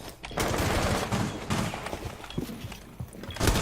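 Dense gunfire in a Rainbow Six Siege match, a steady run of rapid shots and thumps filling the whole stretch, loud and close with a heavier burst near the end.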